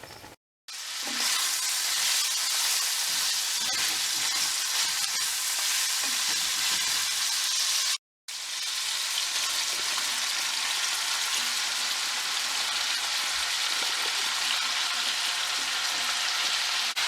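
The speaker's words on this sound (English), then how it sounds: "I'm making fried sausage, cabbage, onion." Sausage, cabbage and onion frying in a very full pan, a loud continuous sizzle heard close up with brief stirring noises and two short cuts to silence, with no one talking.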